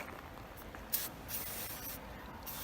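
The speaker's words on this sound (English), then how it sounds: "Take some WD type 40 stuff, and you want to spray it on all the aluminum" WD-40 lubricant sprayed onto the metal parts of a spreader, a soft brief hiss around one second followed by quieter spray bursts over a steady background.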